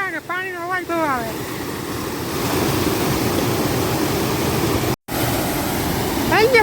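Water gushes out in heavy rain in a village, a loud, steady, close rushing roar. A person talks briefly before it swells and again at the end.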